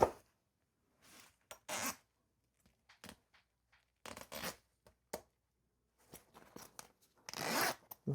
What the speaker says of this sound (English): closes our zipper up